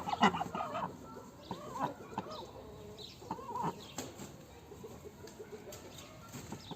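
Laying hens in a coop cluck softly and intermittently nearby, with scattered short calls and faint rustling over a quiet background.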